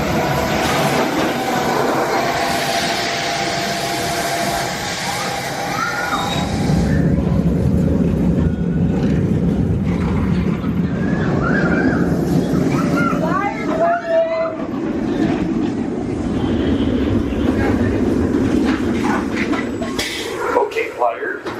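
A family roller coaster train at Fun Spot in Orlando, Florida, rattling and clacking along its track with a rising roar and occasional wheel squeal, while a person talks over it for much of the stretch.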